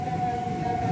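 A JR 205 KRL commuter train runs past at Kramat station, a brief steady rumble of wheels under a sustained high motor whine.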